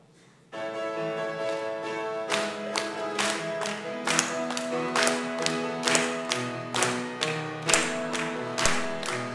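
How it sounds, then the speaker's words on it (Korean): Church congregation claps in steady rhythm along with an accompanied hymn, with sustained instrumental chords underneath and evenly spaced, fairly loud claps beginning after a couple of seconds and continuing throughout. "우리 다 같이 박수 치면서 한번 이 날은 찬양합니다."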